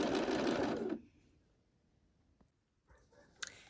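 A sewing machine runs fast and loud while hemming table napkin edges, then stops abruptly after about a second, leaving faint clicks and rustles.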